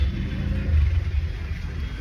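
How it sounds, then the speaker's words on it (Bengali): Steady low rumble of road traffic heard from inside a car stuck in a jam on a rainy morning, a constant engine drone with no horns and no talking. "আর আমরা আবারও ট্রাফিক আটকে গেছি।"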